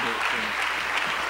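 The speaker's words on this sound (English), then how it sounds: "Let's put our hands together unto the Lord." A church congregation claps steadily in a dense, even burst of applause, with a voice faintly audible underneath.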